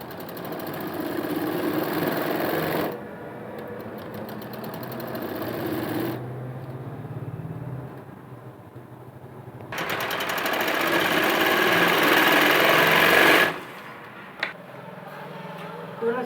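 An electric sewing machine stitches a curved seam on a girl's Patiala kurti, whirring steadily in two long runs separated by pauses while someone talks throughout.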